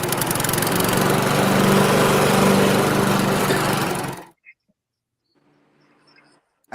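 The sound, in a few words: voice imitating a lawnmower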